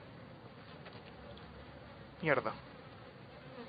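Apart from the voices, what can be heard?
buzzing flies in the video game Outlast 2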